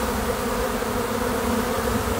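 Italian honeybees swarm around a hive during a spring split's brood flight, a dense, steady buzzing hum filling the air close by, unbroken and without voices.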